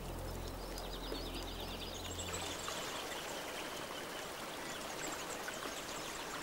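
Murray River floodwater, swollen by heavy rain, flows steadily through a red gum forest, a continuous close rushing and trickling wash with faint bird calls over it.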